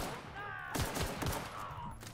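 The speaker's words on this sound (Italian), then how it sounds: "sparo ancora, sparo ancora" Rapid gunfire in the video game The Outer Worlds comes in a cluster of several close, loud shots, with continuous game noise underneath.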